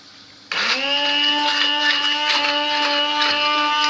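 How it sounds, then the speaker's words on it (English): A stick blender whirs into action abruptly and runs steadily, blitzing a chicken curry base for butter chicken; a loud, close motor whine with slight wobbles in pitch as it churns, no talking. "Make sure you've got a stick blender plugged in"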